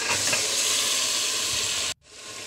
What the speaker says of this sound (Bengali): পেঁয়াজটা হালকা হালকা ব্রাউন কালার হয়ে গেলে দিয়ে দেব আগে থেকে ধুয়ে রাখা মাংসগুলো